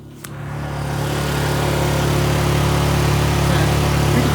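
A Honda EU2000i portable generator runs outside, a steady mid-pitched engine hum with a faint whine that holds even and continuous after a brief knock at the start.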